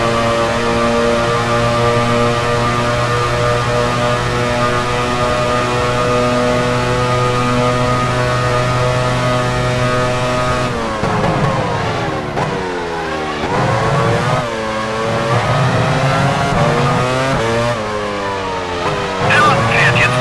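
Formula 1 race car engines from the racing game F1 Challenge 99/02 at the 1999 Belgian Grand Prix at Spa-Francorchamps, a steady loud multi-toned drone that shifts into rising and falling pit-lane engine notes about halfway through, with commentary speaking over it.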